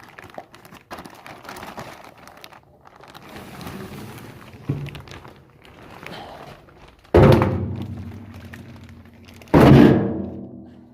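A car fuel tank being removed from a box during an LS engine swap, heard as soft rustling and scraping followed by two loud, close hollow thunks as the tank is moved and set down.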